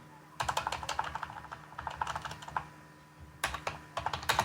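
Fast typing on a computer keyboard while a shell script is written, bursts of rapid close keystrokes separated by a short pause, fairly quiet.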